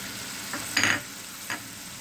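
Vegetables frying in a small amount of hot oil, with a low steady sizzle and a few brief louder bursts of stirring and spattering, close by and without talk.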